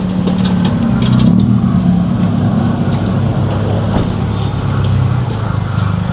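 Steady road traffic on a street near a school, with engines of cars and larger vehicles rumbling past continuously at close range, loud and unbroken throughout.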